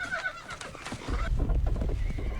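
In an episode of Xena: Warrior Princess, a horse lets out a shrill whinny up close, followed by a lower snorting rumble and hoof clatter.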